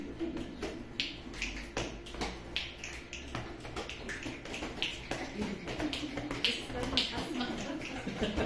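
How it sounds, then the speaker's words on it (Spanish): Rhythmic body percussion in a samba pattern, chest slaps alternating strong and weak followed by two finger snaps, repeating steadily at close range with a voice talking over it. "Son 2 golpes en el tórax y 2 chasquidos."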